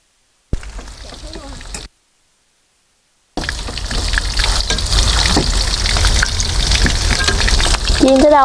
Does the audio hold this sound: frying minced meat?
yes